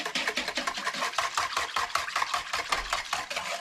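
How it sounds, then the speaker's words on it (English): Whisk beating a deer jerky marinade of liquids with brown sugar and pepper in a bowl, a fast, steady run of rhythmic swishing and clicking strokes, close and alone. "we're gonna take a whisk, take this, and we're just gonna stir everything up real good"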